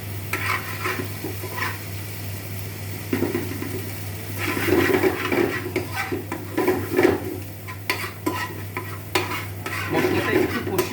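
Crab jhaal spice paste with chilli powder and a little turmeric is stir-fried in a pan: soft sizzling under repeated scraping and stirring strokes, louder in uneven bursts from the middle onward.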